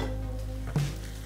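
Onion frying in a covered pan for biryani gives a soft, steady sizzle with a brief clink of the lid or utensil partway through, close by and without talk.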